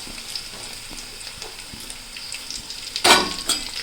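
Chopped ginger and green chillies frying in oil for rambutan pickle, a steady soft sizzle with light scrapes of stirring, then a louder burst of crackle near the end, close by and without speech.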